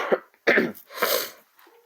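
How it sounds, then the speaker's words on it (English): A person clears their throat in a few short, raspy bursts, close up, with a brief pause between efforts and no talking. "Let me clear my throat."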